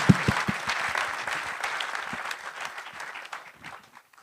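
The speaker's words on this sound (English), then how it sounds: "Let's give the panel, please, a round of applause" An audience at a town hall on governance gives a panel a round of applause, with dense clapping that starts strong and gradually fades over about four seconds.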